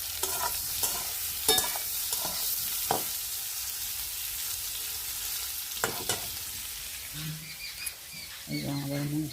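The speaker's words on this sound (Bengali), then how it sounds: "এই যে তরকারি হচ্ছে ডিম আলু ফুলকপি দিয়ে তরকারি।" Egg, potato and cauliflower curry cooking in a pan, with a steady close sizzle broken by scraping stirs and clacks of a utensil; a voice talks briefly near the end.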